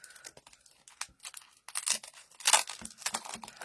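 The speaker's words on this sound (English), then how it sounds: "we'll run this right through our die cut machine" Distressed 3D embossing folder fed through a die cut machine, giving a run of crinkling, crunching and crackling bursts that swell louder toward the end, close up with no voices.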